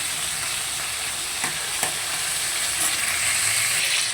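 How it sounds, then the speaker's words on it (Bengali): Fish heads frying in oil, browning to a crisp: a loud, close, continuous sizzle with steady crackle and a few faint utensil taps. "আর একটু কড়া করে ভেজে নেব"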